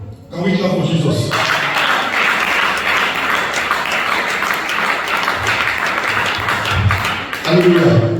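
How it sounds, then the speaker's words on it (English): A church congregation at a men and women's conference breaks into loud, steady applause for several seconds. A preacher's voice is heard briefly at the start and again at the end. "Can we clap for Jesus?"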